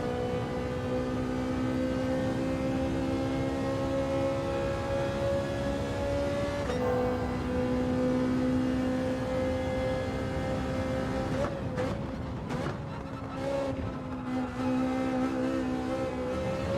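A Ferrari race car engine in Gran Turismo 7 holds a steady, high droning whine through a long stretch, dipping and shifting pitch briefly near the end as it eases through a corner, with no talking.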